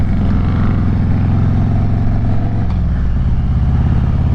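A motorcycle engine drones loud and close on the move, its steady mid-pitched tone shifting as the rider changes speed, with nobody talking.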